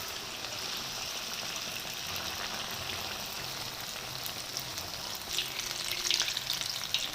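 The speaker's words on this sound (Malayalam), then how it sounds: "ഇതിലേക്ക് ഏത്തപ്പഴം മാവ് മുക്കി നമുക്ക് ഇതിനകത്തേക്ക് ഇട്ട് കൊടുക്കാം." Ripe plantain slices dipped in appam or dosa batter fry in hot oil as pazham pori, giving a steady, dense sizzle and crackle that swells slightly toward the end.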